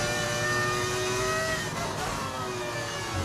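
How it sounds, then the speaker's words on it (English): V10 engine of an F1 race car in the F1 25 video game, a loud sustained high-pitched whine holding steady with slight pitch shifts, no talk over it. "It's actually a V10 engine"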